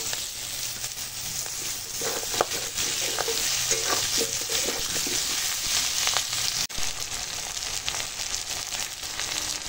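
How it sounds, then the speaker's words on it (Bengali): Cut potatoes sizzle steadily in hot oil in a pan used for a catla fish curry, a continuous close frying hiss broken by stirring and scraping sounds, with no one talking. "এবার কেটে রাখা আলু দিয়ে দেবো।"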